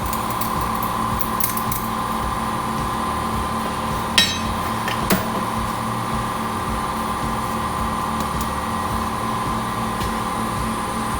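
An Eastwood blast cabinet runs continuously while two caliper brackets are blasted, a steady loud hiss and hum with a couple of sharp knocks, no talking.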